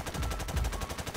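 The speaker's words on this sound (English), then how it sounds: "Shoot a machine gun" Machine gun fire in the shooter game Modern Warfare Remastered (MWR): a loud, rapid stream of automatic shots that continues for about a second with no talking.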